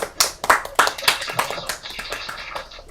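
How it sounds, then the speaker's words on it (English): Clapping at a virtual school assembly starts as a few sharp, close claps and quickly settles into lighter, uneven applause. "Let's give them all a big round of applause."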